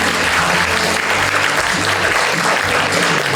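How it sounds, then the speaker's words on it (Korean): An audience applauds steadily at an award ceremony for Tuberculosis Prevention Day, a dense, loud wash of clapping filling the whole stretch. "박수 부탁드립니다."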